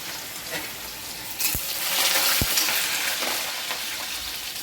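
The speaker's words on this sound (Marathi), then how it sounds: "लसूण ठेचून घेतलेलं आहे ते बघू शकता हा लसूण टाकून घ्यायचा आहे" Crushed garlic drops into a hot cumin tempering for pithla, a Maharashtrian gram-flour dish, and bursts into a loud, close sizzle after a couple of utensil taps, then settles into steady frying.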